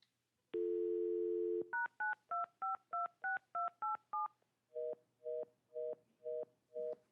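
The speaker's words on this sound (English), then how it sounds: "Mr. Chilson, we're trying to call you right now by phone." A telephone call is placed: a steady dial tone sounds first, then a quick run of DTMF keypad beeps, followed by five evenly spaced ringback-style tone bursts, all clear with no voices.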